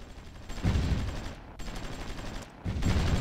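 Artillery fire in the strategy game Supreme Ruler Ultimate comes as dense, rumbling volleys of distant shots in three sustained bursts separated by brief lulls, with no talk.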